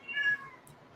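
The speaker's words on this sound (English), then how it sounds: "That was a loud meow from Mittens." A pet cat named Mittens lets out a single loud, drawn-out meow, close and clear against a quiet room.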